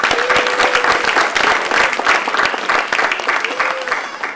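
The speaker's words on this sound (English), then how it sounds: "we'll give him a big round of applause for the mayor" An audience at a Mountainside menorah lighting applauds the mayor with loud, sustained, dense clapping close by, and a few voices call out over it.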